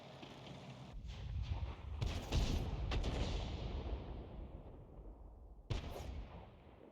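Heavy tank cannon shots and battle noise in a tank video game, with a KV-2 and an M6 among the vehicles, as loud booming blasts around 2 and 3 seconds and a sharp report near 5.7 seconds over a constant rumble.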